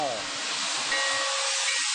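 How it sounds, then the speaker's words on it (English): Steam train engine running backwards, blasting a loud, continuous broadband hiss of steam close by that fills the whole moment, with faint low rumbles beneath. "look at the steam coming out down here"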